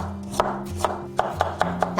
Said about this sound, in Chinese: 准备一根胡萝卜，先切片